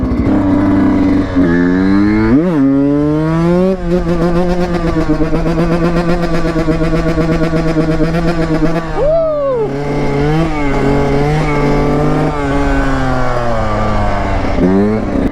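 A 2004 Honda CR 125 two-stroke dirt bike engine revs hard up close, its pitch repeatedly sweeping up and dropping back in rising and falling surges over a steady idle drone.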